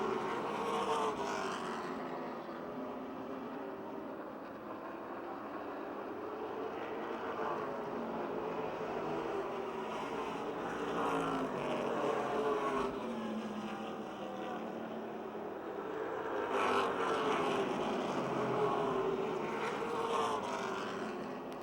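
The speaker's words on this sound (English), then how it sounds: "Lapped machine of Jamie Beck, the 92 car, separating the leaders on the back straightaway." NASCAR late model race cars circling at Motordrome Speedway, a continuous roar of engines that swells and fades as packs pass, heard from a distance with no one talking.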